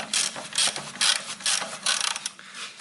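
Rapid ratcheting of a wrench working loose the upper bolt on a car's rear spring mount, repeated bursts of clicking roughly every half second, close and fairly loud, with no talking.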